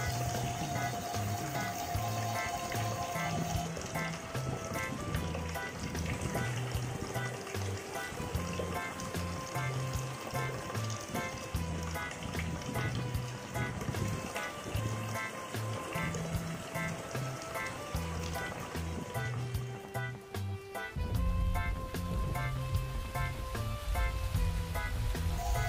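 Rain falls steadily during a drive on a wet mountain road between Pacet, Trawas and Pandaan, a dense continuous patter and wash on the car with tonal engine or music hum underneath and no talking.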